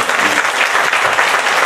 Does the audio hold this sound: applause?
yes